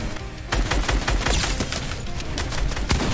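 Gunfire from a purple pump shotgun in the Fortnite video game, heard as a dense, loud run of rapid shots and impacts amid continuous game noise, with no talking.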